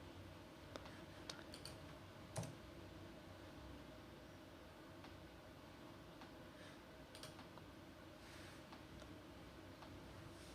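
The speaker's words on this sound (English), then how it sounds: "click on this one and then click open and install now" Computer mouse clicks while installing a WordPress theme, a few faint, sharp clicks scattered over a quiet room hiss.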